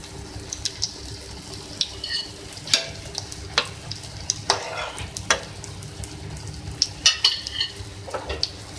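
Breakfast snacks fry in a pan, giving a soft steady sizzle with scattered clinks and scrapes of stirring, fairly quiet and close.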